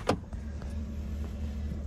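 Truck engine left idling, a low steady rumble close by, continuous and fairly quiet, with a brief click at the start and no talking.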